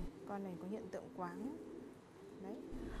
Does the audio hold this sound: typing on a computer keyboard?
no